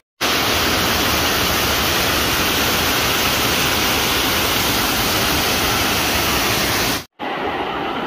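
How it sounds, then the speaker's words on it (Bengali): A monsoon-season forest waterfall drops from a height into a stream, making a loud, dense, continuous roar that cuts off abruptly near the end. "উপর থেকে দারুণ ঝর্ণা পানি পড়তে, নাম না জানা একটি নতুন ঝর্ণা।"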